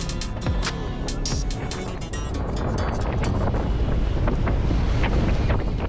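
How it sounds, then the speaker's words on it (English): Big ocean waves and strong wind around a sailing boat heading out over a bar, with heavy wind buffeting the microphone and rushing water loud and constant throughout. "Yeah, the waves are big."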